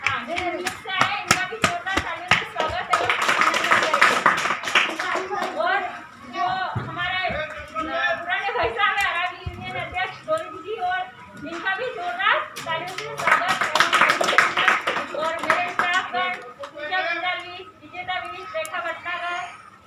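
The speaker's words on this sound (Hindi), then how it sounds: "हम उनका जोरदार तालियों से स्वागत" Audience applause welcomes a speaker at a child-rights awareness event on education and the 1098 child helpline: a dense, sustained run of hand clapping that swells and eases over about twenty seconds, mixed with voices talking throughout.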